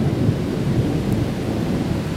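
Deep, continuous thunder rumbles through a severe tornadic thunderstorm in Michigan, with a steady low roar and a loud, close wash of storm noise throughout, with no voices.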